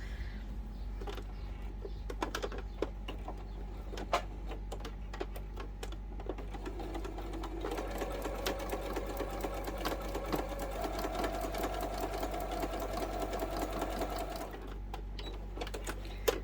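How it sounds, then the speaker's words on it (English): A sewing machine stitches fabric wallet pieces together with a long stitch length, a steady close mechanical whir with rapid needle ticking that runs continuously at moderate volume, with no talking. "I just like to stitch across here because that just helps hold those pieces together."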